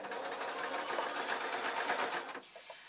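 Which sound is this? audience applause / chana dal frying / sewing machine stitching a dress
sewing machine stitching a dress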